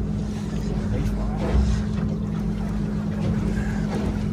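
Steady drone of a fishing boat's motor pushing toward a hooked fish near a reef, a constant low rumble with wind buffeting the microphone and people talking faintly over it.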